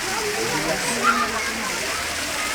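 Waterfall at Eden Falls, a steady broadband rush of falling water heard from nearby, continuous and moderately loud, with a brief splash in the middle.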